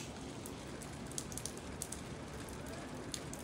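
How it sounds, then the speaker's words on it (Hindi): Heavy rain drums steadily on a vehicle during a family road journey from Hunza toward Naran, a dense, continuous patter with scattered sharper drop hits and no speech. "अभी बारिश काफ़ी ज़्यादा तेज़ हो गई है ये देखें"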